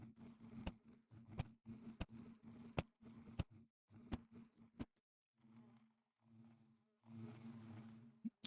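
Hoarder bees in a modded Minecraft game, an insect buzzing hum with sharp clicks that stops and starts in separate bursts, quiet and close with no talk.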